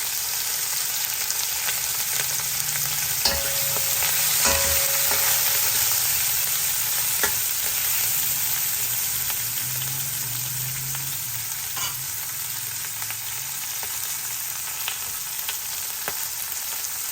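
Green chillies fry in a pan for pongal, a continuous close sizzle with a few sharp pops and crackles and no talking.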